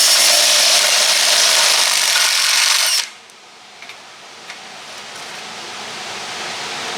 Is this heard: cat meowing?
no